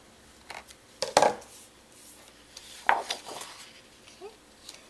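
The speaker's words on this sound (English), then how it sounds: "it looks like I forgot to cut this one down entirely, so I'm just going to trim that off" Scissors trim excess cardstock for a spring scrapbook layout, giving two or three brief, crisp snips with a louder cut near the start and another midway, close and fairly quiet, with no talking.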